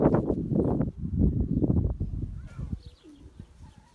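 Pigeons coo close by in a loft, with several deep, throaty, overlapping calls that thin out and grow fainter toward the end.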